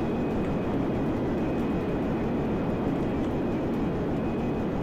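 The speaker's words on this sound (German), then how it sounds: "Ihr hört immer noch dieses Wummern von den Pistons, also von den Kolben." A moped build in the flight game Simple Planes runs with a steady, dense mechanical drone and pulsing piston thump, loud and continuous throughout with no pauses.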